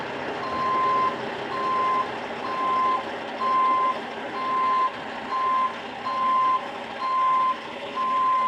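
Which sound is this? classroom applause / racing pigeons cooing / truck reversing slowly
truck reversing slowly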